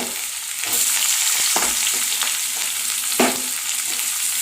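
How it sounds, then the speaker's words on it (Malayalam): Garlic, ginger and shallots sautéing in hot oil in a pan for a dried stingray curry, a steady close sizzle broken by a few scraping stirs of a spoon. "ഇത്രയും നമുക്ക് ഇട്ടുകൊടുക്കാം അതിനെ ഒന്ന് വഴറ്റിയെടുക്കാം"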